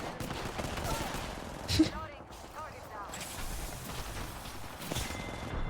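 Scattered distant gunfire in the video game Apex Legends crackles through a noisy background, with one sharper shot standing out partway through.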